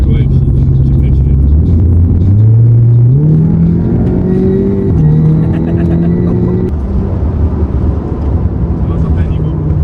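A VW Golf 7 GTI Clubsport Stage 4 rated at 570 hp pulls hard in fourth gear, its engine note climbing steadily in pitch as it builds speed, loud and close inside the cabin with people talking over it.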